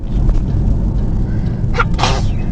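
A single sneeze near the end, a quick sharp burst over a steady low rumble of background noise.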